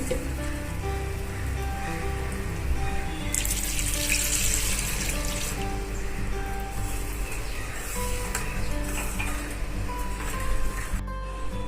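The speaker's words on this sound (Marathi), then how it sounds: "मिक्सरच्या भांड्यातच पाणी टाकलेलं आहे बघा" Water pours and splashes into a mixer jar, making a continuous close wash of running liquid with bursts of louder splashing for several seconds, heard alone without talk.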